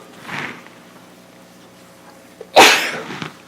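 A single loud, sharp sneeze bursts out after quieter breathy sounds in a room during a town board meeting.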